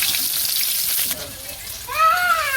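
Green chilies and onion frying in mustard oil in a village kitchen, a steady close hiss and sizzle that dips midway, with a voice talking over the latter part.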